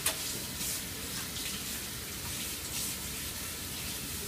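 Water runs steadily from a tap while someone washes their hands. The rush is continuous and fairly close, with a brief knock at the start and no talking.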